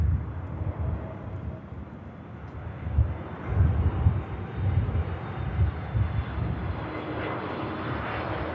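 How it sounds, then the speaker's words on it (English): A KLM airliner arriving from Amsterdam touches down at Manchester Airport, a broad rumbling engine roar that swells and fades in waves from a moderate distance. "Bit wobbly touchdown, but the aircraft's down nice and tidy."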